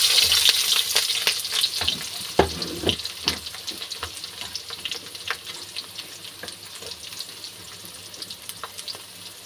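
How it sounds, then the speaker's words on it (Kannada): Chopped onion, green chilli and crushed garlic fry in hot oil for tempering, giving a dense, continuous crackle and sizzle with frequent spattering pops and occasional stirring scrapes, close and fairly loud, with no talking. "ನಾನು ಕಟ್ ಮಾಡ್ಕೊಂಡಿರೋಂಥ ಈರುಳ್ಳಿ ಮೆಣಸಿನ್ಕಾಯಿ ಮತ್ತು ಬೆಳ್ಳುಳ್ಳಿ ಜಜ್ಜಿಟ್ಕೊಂಡು ಇದನ್ನು ಒಗ್ಗರಣೆಗೆ ಹಾಕ್ಕೊತಾ ಇದ್ದೀನಿ"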